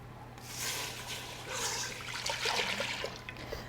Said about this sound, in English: I'm going to add my milk.